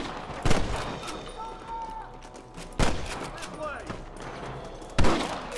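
Rifle gunfire in the video game Red Dead Redemption, three loud, sharp shots spaced about two seconds apart over quieter game ambience, with someone speaking between them.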